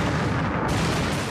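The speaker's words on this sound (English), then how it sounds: "Because we got to blow things up." A practical explosion effect staged for the TV series Jericho, a loud, dense, rumbling blast that fills the whole clip as a continuous roar with no talking.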